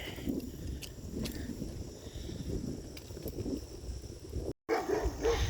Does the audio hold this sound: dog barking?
yes